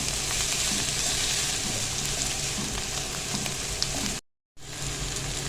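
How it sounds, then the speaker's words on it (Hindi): Onion softens in a pan for a stuffed karela (bitter gourd) keema filling, giving an even, moderate sizzle that cuts out for a moment near the end and then carries on. "अब हमने इसको अच्छे से मिक्स करना है और इसको हमने इतना भूनना है कि प्याज हमारा सॉफ्ट हो जाए"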